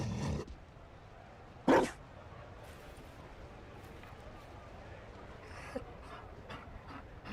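A Mabari dog in the video game Dragon Age: Inquisition, with brief close panting and a sharp bark-like burst against a quiet game background, while people talk.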